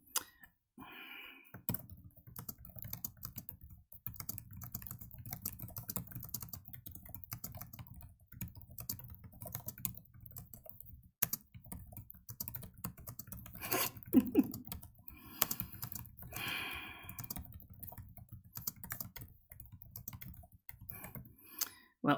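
Typing on a computer keyboard, rapid irregular clicking of keys in bursts with brief pauses, close and fairly quiet, with occasional faint speech.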